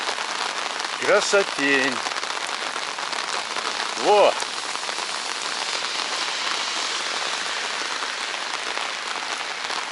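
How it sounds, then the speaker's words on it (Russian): Heavy rain pours down steadily outdoors among trees and grass, a dense even hiss from start to end; someone speaks briefly twice over it. "Вот это дождик, я понимаю."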